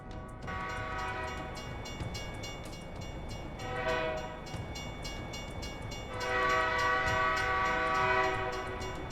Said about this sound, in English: Oh, shortest freight train ever.